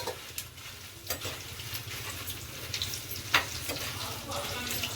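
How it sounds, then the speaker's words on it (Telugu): Dried red chillies frying in hot oil for a coriander pickle, a steady soft sizzle with a few sharper crackles and stirring clinks, fairly quiet and close, with no talking. "ఎండుమిర్చిని నూనెలో ఫ్రై చేసుకుందాం"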